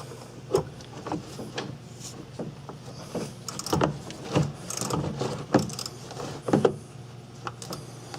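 Wrench work on bolts of the A/C components of a Ford Ranger, with a series of separate metallic clicks, ratcheting and knocks at an uneven rhythm, close by in a quiet garage setting.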